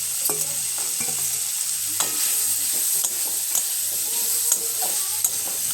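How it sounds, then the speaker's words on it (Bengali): Spice paste with jackfruit seeds and fried potatoes is stir-fried in a pan, a continuous close sizzle broken by repeated sharp scrapes and taps of the spatula at irregular intervals, with no talking. "এরপর ভেজে রাখা আলুগুলো আমি মশলার মধ্যে দেওয়ার পর 3 মিনিট আমাকে কষিয়ে নিতে হবে।"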